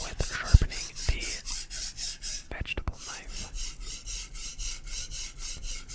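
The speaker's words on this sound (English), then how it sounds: "6000 grit side, and starting off with sharpening the vegetable knife" A vegetable knife is stroked across the 6000 grit side of a whetstone in steady, rhythmic back-and-forth swipes, close and soft, with a brief clatter partway through and no speech.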